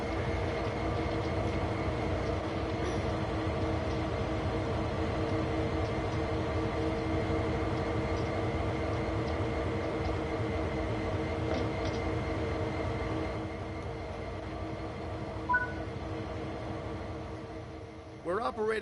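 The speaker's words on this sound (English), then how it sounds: "We're operating this westbound stack train today." A westbound double-stack freight train runs steadily on Sand Patch Grade in Train Sim World 5, a continuous loud rumble of diesel engines and rolling wagons with a slight drop in level near the end.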